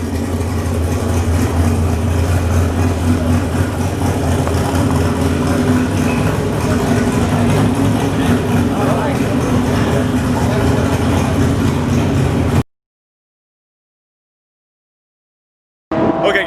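Race car engines rumble steadily at a roll racing event, a loud, continuous low drone heard up close from trackside before cutting off abruptly into silence, then briefly returning.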